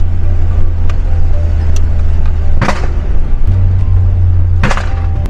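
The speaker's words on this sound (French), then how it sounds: "Le fameux retour de clé de carbu." Carbureted Volkswagen Golf idling with a low rumble, then two sharp throttle blips ending in exhaust pops, the engine settling back to idle between them, close and loud.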